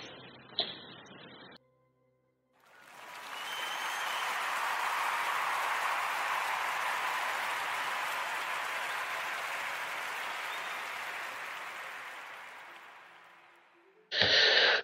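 Studio audience applause on a Portuguese radio podcast show, a sustained wash of clapping swelling in, holding steady for about ten seconds and fading out between short bursts of talk.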